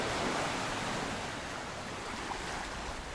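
Surf washes onto the beach at Miami Bay in Penang in a soft, steady wash of breaking water with faint wind, fairly quiet and without voices.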